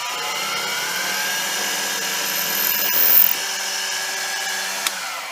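A center drill spots a hole in aluminum before a 4mm tap, a steady high-pitched machine whine that holds for several seconds with a brief louder swell near the middle, alone without talk.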